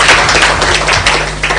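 An audience at a Pan-African green climate finance conference claps in a short, dense burst of applause, close and loud, with no talking over it.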